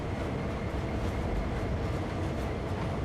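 Diesel locomotive in Train Sim World 2 on Sand Patch Grade, pulling away with a steady low engine rumble and rail noise under a constant drone, no talk.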